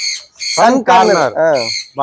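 A sun conure parrot gives loud, harsh squawks in quick repeated bursts, very close and sharp, with no talk over them.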